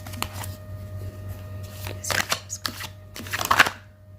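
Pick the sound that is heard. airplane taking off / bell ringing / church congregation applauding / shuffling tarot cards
shuffling tarot cards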